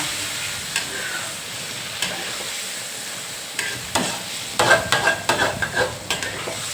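Fried garlic tipped into a hot pan of soft tofu stir-fry with mixed vegetables, a steady close sizzle broken by sharp scraping stirs that grow busier toward the end.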